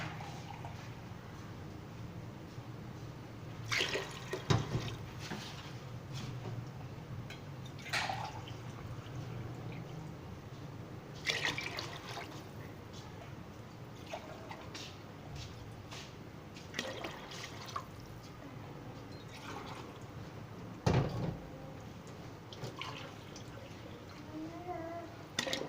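Six glasses of water are poured in several separate bursts into a cooking pot for rice, with faint splashes and occasional clinks over a low, steady background hum.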